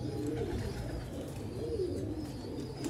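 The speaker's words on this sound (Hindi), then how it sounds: "ये देखें जी सियालकोटी जोनसिरे बटेरे कबूतर" Sialkoti Jonsire Batera pigeons coo softly in a loft, low rolling calls rising over a steady background hum, heard from close by.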